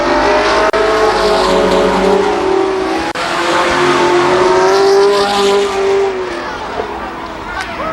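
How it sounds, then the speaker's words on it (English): A race car roars loudly and continuously off the fourth turn of an oval speedway during a 1993 stock car event at Columbus Motor Speedway, engine note rising and shifting, with a voice talking over it. "Car 37 off the 4th turn."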